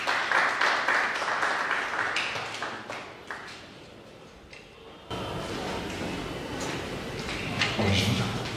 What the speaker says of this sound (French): Acclamez, s'il vous plaît.